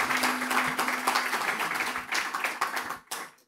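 An audience at an expo talk applauds two guests with a dense round of clapping that gradually thins out and fades, with a few scattered last claps at the end.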